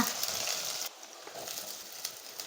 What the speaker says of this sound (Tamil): இப்போ கட் பண்ண வெங்காயத்தை இவ்வளோ சேர்த்துக்கோங்க